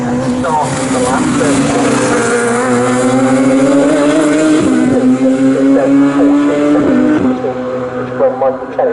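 Racing cars lap Snetterton circuit in a Bikesports Championship race, their engines a sustained, rising and falling whine with pitch shifts as they approach, heard under continuous race commentary.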